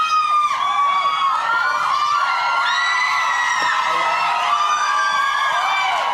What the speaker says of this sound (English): Bit of screaming there.